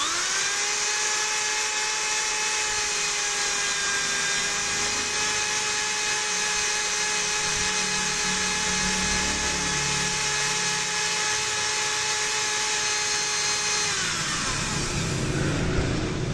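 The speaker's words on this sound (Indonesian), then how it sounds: "Kita bor lagi." A power drill whines at a steady high pitch for a long stretch, grinding continuously, then winds down near the end. No talking.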